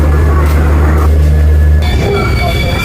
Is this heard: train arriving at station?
yes